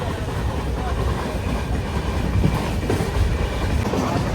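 Aboard the Kacheguda Weekly Express between Karur and Erode, the train rolls at speed with a constant loud rumble and faint rhythmic wheel clatter throughout.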